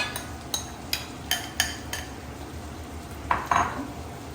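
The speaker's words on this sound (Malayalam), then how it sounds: "ഇതൊക്കെ എല്ലാം മിക്സ് ചെയ്ത് ഒരു ഡോ മാറി ആക്കുക" Grated carrot and chopped onion being mixed into a dough in a home kitchen bowl, heard as a run of light clinking and scraping strokes at a steady rhythm, close by and alone, with a couple of louder knocks near the end.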